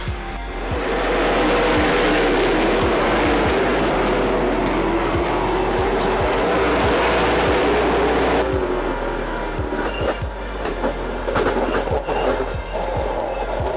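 Race cars roaring off at the start of the second race, a loud sustained engine drone filling the whole stretch with rising revs and a shift in pitch partway through, heard fairly close.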